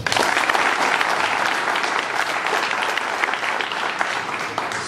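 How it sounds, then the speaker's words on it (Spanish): An audience at a Holy Week congress in Piedecuesta, Colombia, claps in a loud, sustained round of applause from many hands, continuous and even throughout. "un aplauso."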